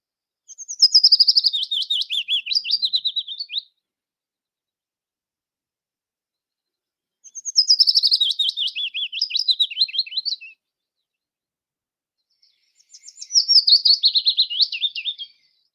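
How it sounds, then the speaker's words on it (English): A migrant Willow Warbler sings three separate phrases, each a slow, sweet cascade of notes sliding downward, clear and close against total silence between them. "this migrant bird, Willow Warbler, has a lovely song I call Falling Leaf, a slow descending"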